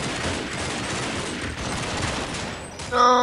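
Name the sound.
gunfire in the video game Counter-Strike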